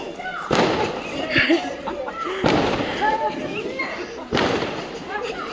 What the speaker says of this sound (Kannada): ಎಲ್ಲರೂ ಕೆಳಗಡೆ ಬಂದು ಪಟಾಕಿನ ಹೊಡಿತಾ ಇದ್ವಿ